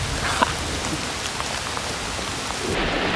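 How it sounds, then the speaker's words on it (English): A solid rain shower pours down on a backpacking trail just after a thunderstorm, a dense, steady hiss of drops close by with a few sharper splatters. "We're getting another shower here, pretty solid downpour"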